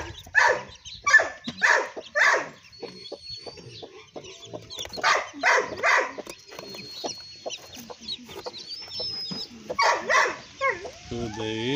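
A hen that has just hatched eight chicks from blue eggs clucks in a farmyard, with some high peeping from the chicks. The calls come in bursts through the clip alongside a few brief dog-like barks and some light background speech.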